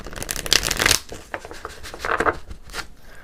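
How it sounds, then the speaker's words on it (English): Tarot cards are riffled and shuffled close up in a few quick, crisp bursts of flapping and snapping, with short gaps between them. "I'm going to do one more shuffle here before we go on."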